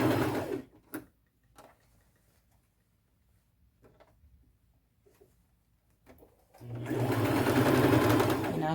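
A sewing machine stitches around the sleeves of a blazer, running steadily and loudly at the start and again at the end, with a quiet stretch of soft handling sounds in between.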